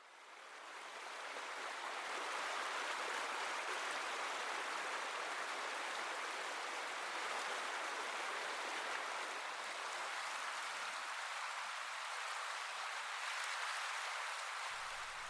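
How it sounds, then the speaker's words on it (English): Steady, broad rushing of fast-moving water over rocks in a Northern Ontario river, loud and continuous throughout with no voices. "a rock-strewn fast water rapids in a canoe"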